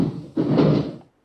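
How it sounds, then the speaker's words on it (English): A door being battered in during a Hammer mummy film gives one heavy, muffled crash with a rumbling wooden thud that lasts most of a second, then cuts to silence. "and breaking down doors with ease"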